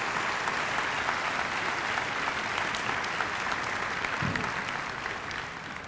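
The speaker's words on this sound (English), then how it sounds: "So please join me in a round of applause for the academic leadership of Central Washington University." A large crowd at a university graduate hooding and commencement ceremony applauds in a sustained, dense roar of clapping that holds steady before easing slightly at the end, with no talk over it.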